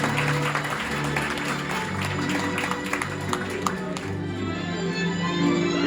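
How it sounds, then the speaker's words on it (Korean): Wedding guests in a hall applauding in a steady, moderately loud burst of clapping, with background music and room noise underneath. "축복의 박수 부탁드립니다"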